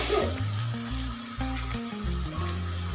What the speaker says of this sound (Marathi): कांदा टोमॅटो ना हलकासा छान असा परतलेला आहे